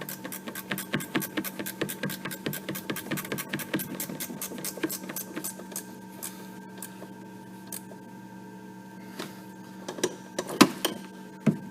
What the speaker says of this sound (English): we got our ratchet wrench. We're going to use it to snug these up